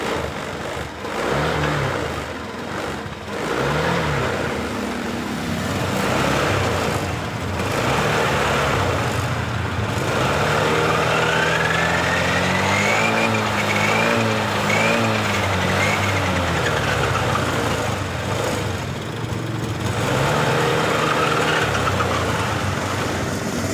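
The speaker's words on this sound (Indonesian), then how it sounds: "Oke, coba kita jalankan motornya." A Honda Beat LED deluxe scooter engine starts and runs unevenly, surging and hunting rather than holding a steady idle. It stays loud and close for the whole stretch, with no talk over it.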